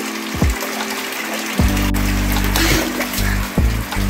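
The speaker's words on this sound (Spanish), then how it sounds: "ahí está la princesa bañando" A little girl splashes water while bathing in a tub, a few sharp splashes over a steady running-water rush, close and fairly loud.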